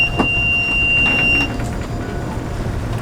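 An old sailboat engine starts up: a steady low mechanical rumble runs throughout, while a thin, high warning whistle sounds for the first second and a half and then cuts off as the engine catches.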